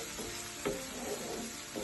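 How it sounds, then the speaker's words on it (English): Aloe vera mixed into hot oil for a spicy aloe vera omelette, giving a steady low sizzle with a few soft scrapes of stirring, close and fairly quiet. "mix it in well, let it soak up the oil so it can start cooking and browning."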